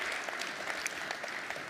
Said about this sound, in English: give them a round of applause here